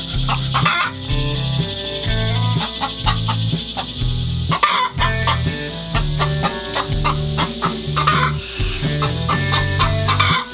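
A hen squawking loudly because another hen occupies her laying nest, with repeated harsh, rhythmic clucks and cries coming close and continuous, and other chickens calling around her.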